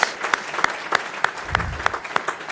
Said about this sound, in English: We've got to give you a hand clap right there.